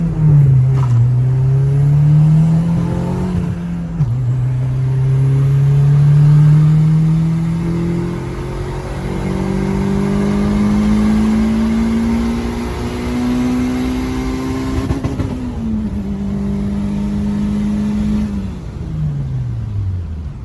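A built turbocharged Honda Civic GSR engine idles steadily with a droning tone that rises and falls through a few slow revs, loud and close throughout, with no talking.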